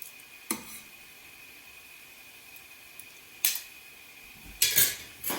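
Cutlery and dishes clatter while veal Marsala is plated, a few separate sharp clinks and scrapes over a faint steady background, the last ones louder and closer together.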